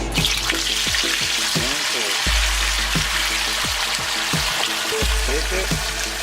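Fish fries in a pan for a fish stew, giving a loud, continuous sizzle. Repeated soft knocks and scrapes from stirring or handling break through the hiss at intervals.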